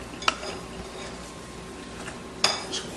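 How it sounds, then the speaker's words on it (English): A fork folds beaten eggs and cheese together in a bowl, giving two sharp clinks against the dish over a quiet background. "So get our fork and let's fold."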